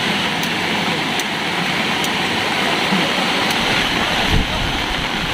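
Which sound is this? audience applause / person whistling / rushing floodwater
rushing floodwater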